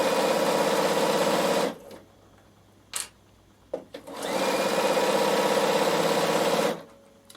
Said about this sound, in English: you've only had to sew 2 straight rows of stitching so far